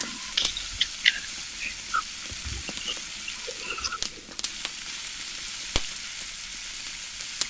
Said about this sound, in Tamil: வெண்டிக்காய் வந்து நல்லா பொரிஞ்சிட்டு